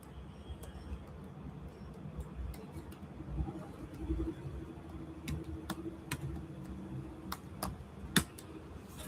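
Keystrokes on a computer keyboard during a Python coding practice session, scattered and irregular, fairly faint, with a low background rumble under the clicks.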